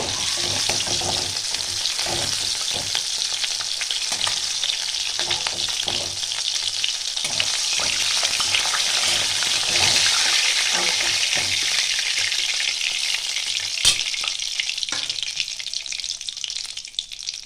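Fish frying in oil in a wok, a loud, continuous close-up sizzle and crackle that holds steady throughout with scattered pops.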